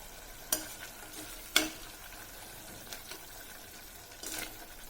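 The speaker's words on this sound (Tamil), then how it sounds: "நல்லா சைடில் இருக்கிறதெல்லாம் எடுத்து விட்டு கிளறி விடுங்க" A tomato, ginger and garlic mixture for tomato rice, fried and stirred in a pan, with a quiet sizzle and two sharp clinks of the spoon against the pan, then soft scraping.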